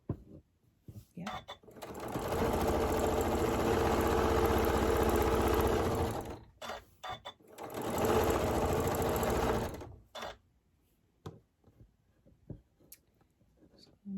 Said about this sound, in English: Just make sure I'm lined up, and I am. Sew off.